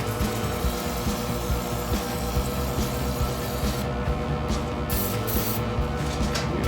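A can of brake cleaner sprays in one long continuous hiss, close and fairly loud, while work goes on inside a motorcycle shop. No one speaks.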